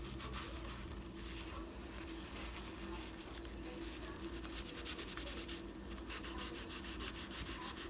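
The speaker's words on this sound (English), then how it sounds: "Wipe up my excess glue here." Excess glue being wiped off a handmade junk journal clip, a close, steady rubbing and scraping that runs continuously throughout without pauses.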